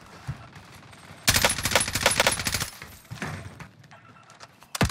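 Rapid automatic gunfire in the video game Call of Duty Warzone rattles in a dense burst, followed by a few scattered shots and clicks.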